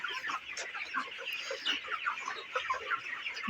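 A flock of broiler chickens on a farm in winter clucks and chatters constantly, many birds overlapping at close to moderate distance.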